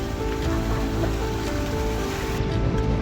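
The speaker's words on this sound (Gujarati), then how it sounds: "ચોવીસ કલાક 365 દિવસ ચાલુ પાણી।" Water runs continuously, a dense steady rushing wash with a low hum beneath it, even in loudness from start to finish and heard close, with no talking.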